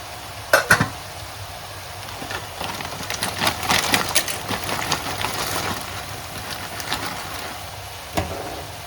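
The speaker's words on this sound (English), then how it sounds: "And now the water is boiling, so we can put the pasta in." Dry pasta goes into a pot of boiling water on a kitchen stove and is stirred, giving a few sharp knocks and scrapes over a steady low bubbling hiss.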